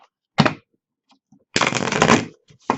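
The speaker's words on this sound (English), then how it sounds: "So let's do a shuffle here." A deck of oracle cards shuffled up close: one short riffle, a pause with faint taps, then a longer crisp riffling burst and a final short one, with no talking.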